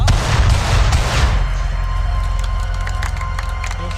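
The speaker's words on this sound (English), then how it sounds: "the sounds of some mighty powerful weapons" Powerful weapon sound effects from the 2003 Ubisoft video game XIII: a heavy, booming blast that fades into a fast rattling burst of rapid fire, loud and close.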